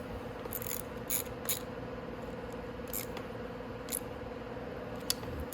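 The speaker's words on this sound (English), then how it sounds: "you want to torque them on, but you don't want to put them on so tight that you strip the bolt" A ratchet wrench clicks in short sparse bursts while bolts are tightened on a Venom X22GT 250cc automatic motorcycle during a crank replacement, quiet metallic ticks spread irregularly over a low steady hum.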